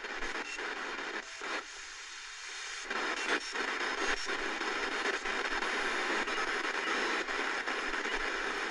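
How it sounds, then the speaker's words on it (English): Steady hiss of static from a Retekess TR626 shortwave radio tuned to empty frequencies, with faint crackles and brief digital chirps and dropouts from its DSP, constant and fairly loud, no voices. "just a bunch of little digital sounds you can hear there on the empty frequencies"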